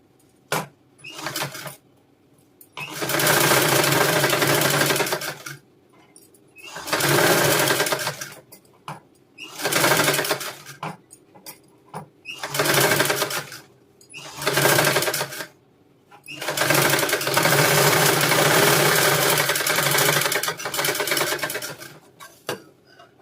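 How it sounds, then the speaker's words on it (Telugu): Sewing machine stitching a princess cut blouse, running in six loud bursts of rapid stitching with short pauses between them, the longest run coming near the end. "ఇలా వేసుకున్న తర్వాత దీనికి కూడా పైనుంచి ఒక అనుగుడు కుట్టు అయితే వేసుకోవాలి"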